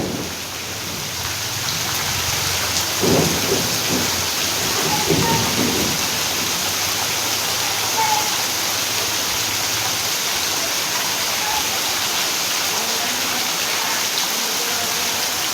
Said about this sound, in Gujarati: જો વરસાદ કેટલો આવે છે.